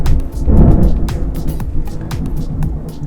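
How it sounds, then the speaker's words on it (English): Deep, loud rumbling thunder rolls through, with heavy low-end energy and a few sharp crackles scattered across it. "the thunder got really loud"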